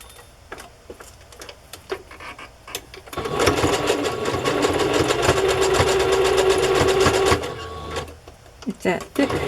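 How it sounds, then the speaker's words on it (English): A sewing machine stitching thick lace onto fabric pieces runs in a steady, loud mechanical whir with rapid ticking for several seconds, preceded and followed by softer handling noises and a few clunks. "now I will sew the lace at the top, which will sew these two pieces together"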